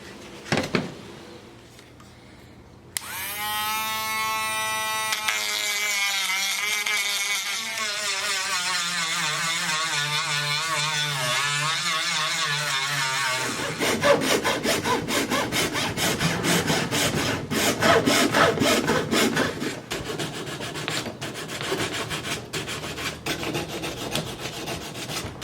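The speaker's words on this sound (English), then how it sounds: "So I'm going to clean this up with a Dremel tool." Dremel rotary tool grinding a cut radiator brace, opening with a rising whine as it spins up, then a long, close, continuous grinding and rasping with shifting pitch as it works the metal.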